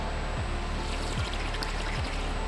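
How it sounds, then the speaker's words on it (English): A swimmer breathes out underwater, bubbles gurgling and trickling steadily in a close, muffled wash, with a few brief lower bubbling pulses, no voices. "You want to blow your air out underneath the water"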